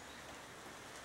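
Steady rain falling at a small farm, a dense, even hiss of drops on surfaces, close and continuous with no voices.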